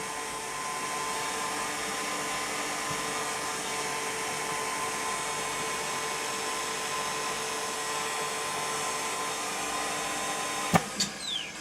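A 3-in-1 OCA screen machine runs with a steady whirring hum, then its double cylinder gives a sharp, brief release of air near the end.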